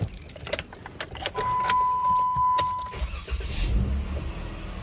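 A car engine cranks and turns over, settling into a steady idle after a few clicks and rattles nearby.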